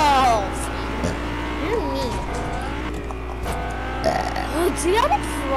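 Someone burps repeatedly, loud and close, over the drone of a car engine, while other people talk and exclaim around the belching.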